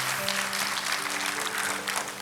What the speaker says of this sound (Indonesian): Kasih tepuk tangan kepada Kristus